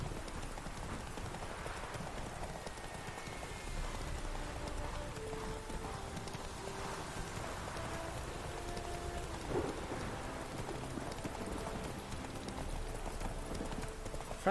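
Roach, Geralt's horse in The Witcher 3, gallops in a race with steady rhythmic clip-clop hoofbeats over a constant bed of falling rain, with game music faintly underneath.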